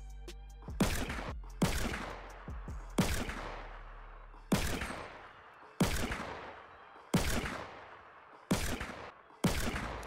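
Gunfire in Fortnite, eight loud, sharp shots spaced about one to one and a half seconds apart, each with a long fading echo, and no talking.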